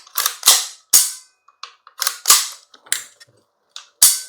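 Sharp, close mechanical clicks and snaps come in quick irregular bursts as the bolt release on a Krytac Warsport LVOA-C AEG airsoft rifle is worked, with silence between each actuation.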